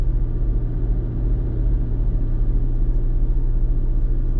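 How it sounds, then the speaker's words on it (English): A car engine held at a steady fast idle of roughly 1800 RPM during a check-engine diagnosis, giving an even, continuous low rumble close by with no break in tone. "Let's bump up the RPMs and see how the graph responds. Okay, I'm up to about 1800 RPMs."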